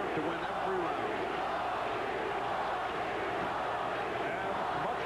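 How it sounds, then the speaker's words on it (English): At a Tony Lopez boxing match in the 11th round, a large arena crowd roars and chants for hometown boxer Tony Lopez in a steady, dense wall of noise, with a commentator talking over it. "much of this crowd chanting for the hometown boxer Tony Lopez"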